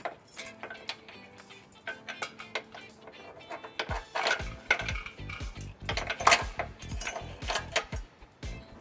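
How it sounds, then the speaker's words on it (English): Metal carriage bolt and plate clinking and scraping as they are fish-wired through the frame of a 2013 Ford Taurus, a run of small close metallic rattles and clicks that grows busier and louder in the second half, no talk. "take the provided carriage bolt and plate and fish wire it through our frame"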